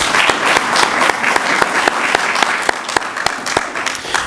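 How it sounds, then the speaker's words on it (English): Loud, lively audience applause at a school board meeting: many people clap together, with sharp individual hand claps standing out in a fast, irregular rhythm over a few seconds. "I would just like to give our board one round of applause for putting that proclamation together."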